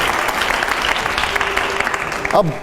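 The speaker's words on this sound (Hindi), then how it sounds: "तालियां हो जोरदार।" A live audience bursts into loud applause, a dense roar of clapping that runs without pause through the short moment.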